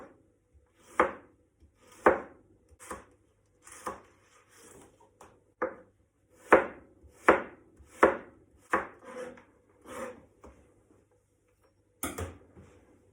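A knife cuts through a leek on a chopping board in a series of about a dozen crisp, close thuds at an uneven, unhurried rhythm, with quiet gaps between strokes.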